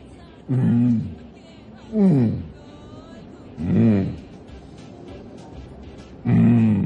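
A person imitates a lion roar in four separate throaty bursts, each about a second long, with short quiet pauses between them.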